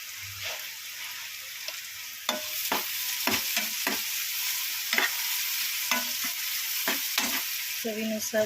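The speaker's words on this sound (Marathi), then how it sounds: "टोमॅटो नरम होईपर्यंत त्याला हलवत राहायचं। थोडीशी हळद," Tomatoes with a pinch of turmeric frying and being stirred in a pan for a dry Bombay duck masala, giving a steady sizzle broken by repeated scraping strokes of a spoon, close and alone with no talk.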